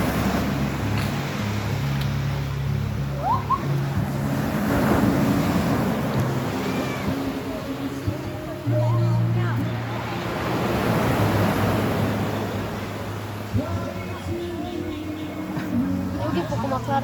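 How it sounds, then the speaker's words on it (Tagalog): Ocean waves breaking at the sea, a continuous surging wash of surf with gusty wind noise on the microphone, while voices talk over it near the shore. "Nagko kayong balod."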